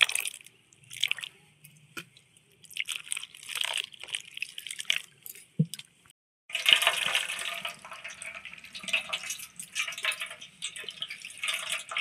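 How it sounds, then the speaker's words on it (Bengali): Water trickles and drips intermittently as fresh chhana cheese curds are rinsed, with quiet splashes and a louder stream of running water near the end. "তার জন্য আমি একটু ছানাটাকে ধুয়ে নিচ্ছি।"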